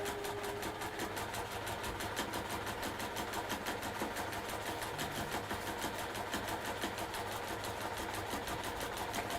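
Sewing machine stitching a seam close to a folded fabric edge, a steady fast needle rhythm running throughout at moderate level with no talk.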